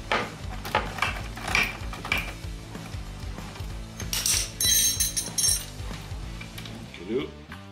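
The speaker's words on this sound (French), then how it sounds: "on va y aller avec une petite clé main ici" Small hand wrench working a nut and bolt on a Polaris RMK SKS snowmobile: close, repeated ratcheting clicks and metallic clinks in uneven bursts, with someone talking faintly at times.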